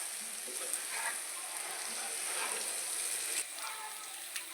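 Eggs fry in a pan with a soft, continuous crackling sizzle, quiet and steady, with occasional faint ticks of a spatula and no voices.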